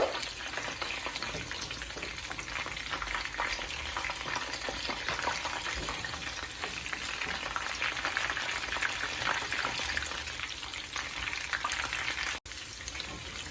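Chicken pieces fry in oil for a spinach chicken curry, giving a loud, dense, unbroken sizzle close by for the whole stretch with no talking.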